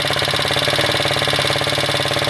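Motoland Enduro 250 motorcycle with a 172FMM engine idling just after starting, a loud, close, steady rapid thumping putter with a slight rattle and no pauses.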